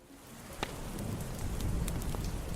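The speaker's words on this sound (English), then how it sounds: "it will start to trickle with rain" Light rain trickling steadily at a campsite at night, a soft continuous patter of drops with a few sharper taps, close and fairly quiet, no voices.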